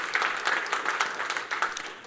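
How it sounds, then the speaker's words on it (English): Audience applause fills a conference keynote hall during the opening remarks, a steady, dense wash of clapping from a crowd, moderately loud and continuous for a couple of seconds. "Let's give a round of applause for the sponsors"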